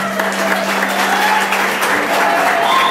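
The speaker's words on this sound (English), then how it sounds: "Please let's give him a clap." Audience applause at a secondary school magazine launch, a dense steady clapping from a crowd that lasts the whole stretch, loud and close, with a constant low hum underneath.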